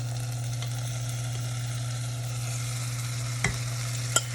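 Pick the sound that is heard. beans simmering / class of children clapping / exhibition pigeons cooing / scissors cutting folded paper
beans simmering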